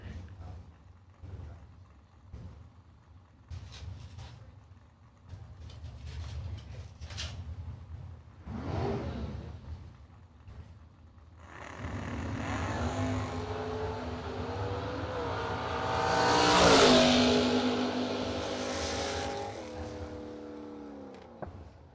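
A drag racing car making a solo bye run at the RAD Torque Systems Fall Fling: quiet at first, then a rising engine roar that builds to a loud peak and fades as it passes at a distance.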